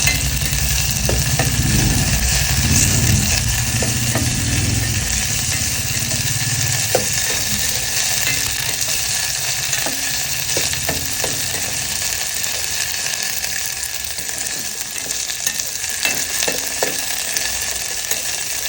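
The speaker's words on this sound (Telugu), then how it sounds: "జీడిపప్పు వేసుకోవాలి కొంచెం కట్ చేసుకున్న పచ్చిమిర్చి వేసుకోవాలండి ఇది బాగా వేయించుకోవాలి" Cashews and chopped green chillies fry in a pan of hot oil for veg manchurian, giving a steady, dense sizzle that runs unbroken and fairly loud throughout, with no talking.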